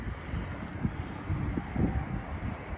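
Wind gusting hard and steadily outdoors around a stainless steel car wash vacuum station, a low rumbling roar with buffeting swells, no voices.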